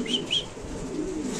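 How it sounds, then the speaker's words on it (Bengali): A Mundian pigeon chick set down on the ground gives a couple of soft, close coos over a faint background hum. "এই কবুতরগুলো একটু নিচে ছাইড়া দেখাবো আমরা"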